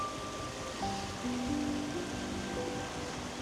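Shallow creek water flows steadily beside a snowy Nashville backyard during a snowstorm, a close, continuous rushing wash with no pauses and no voices.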